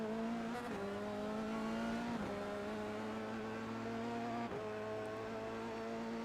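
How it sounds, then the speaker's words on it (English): A Valvoline F3 race car laps a track at the Long Beach runoffs, its high engine note steady and close, climbing through upshifts with a sharp drop at each gear change. "Looks like he's running pretty comfortably in his Valvoline F3 car."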